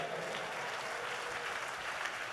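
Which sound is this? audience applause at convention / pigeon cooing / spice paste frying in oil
audience applause at convention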